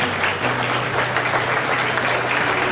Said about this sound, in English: Please welcome His Excellency with a big round of applause.